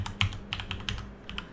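A computer keyboard is tapped to enter a console command in Unreal Engine 5.1, giving a short run of crisp, close keystrokes in an uneven rhythm with brief gaps.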